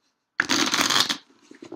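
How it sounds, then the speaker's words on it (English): A quick riffle of shuffling a small deck of tarot cards, a dense papery flutter lasting under a second, followed by a few soft taps as the deck settles. "just need to get used to shuffling such a small deck"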